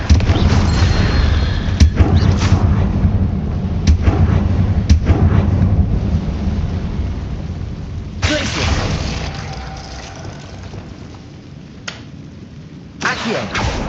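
A Confringo fire spell in Hogwarts Legacy goes off as loud, booming blasts with sharp cracks and a rumbling tail, followed by further bursts and quieter gaps between them.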